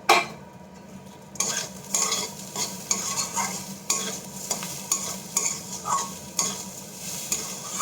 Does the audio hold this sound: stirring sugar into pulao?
yes